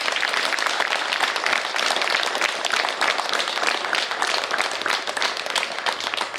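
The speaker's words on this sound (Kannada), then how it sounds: "ಎಲ್ಲರೂ ಸಲ ಚಪ್ಪಾಳೆ ತಟ್ಟಿ." Crowd applause at an International Yoga Day gathering at a yoga centre, dense, even clapping from many hands that stays loud and steady throughout, with no one talking over it.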